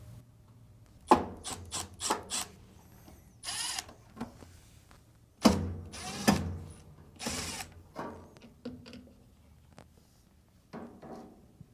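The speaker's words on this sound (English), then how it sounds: "remove the 2 Phillips screws and lift off the connector" Phillips screws are removed and a duct connector is lifted off a Samsung dryer, giving intermittent bursts of screwdriver rasping and scraping with clunks of plastic and metal parts being handled, close by.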